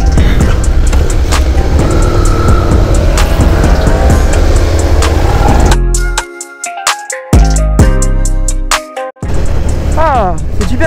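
A motorcycle engine revs and accelerates loudly during a first riding lesson for a motorcycle licence. A sustained roar fills the first half, then breaks up into choppy bursts alongside thin tonal beeps.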